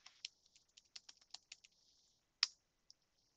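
Quick, light keystrokes on a computer keyboard, about a dozen crisp taps in an uneven run, then a louder key press after a short pause and one last faint tap, close and quiet in an otherwise silent room.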